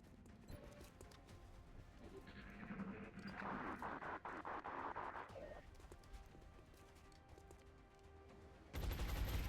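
Gunfire in XCOM Long War, a sustained rattle of shots and impacts building through the middle, with another sharp burst near the end, over game ambience and no voices.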